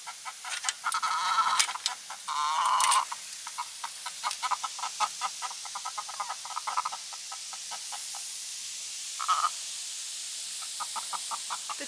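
Backyard chickens cluck and chatter in hot weather, with repeated short clucks and a couple of louder, drawn-out squawks close by, coming in uneven bursts with brief pauses between.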